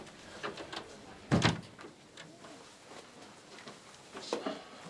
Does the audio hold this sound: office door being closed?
yes